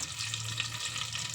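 Mustard seeds sizzle in hot oil for vegetable pulao, a soft, continuous crackling fizz, close and faint, without talk.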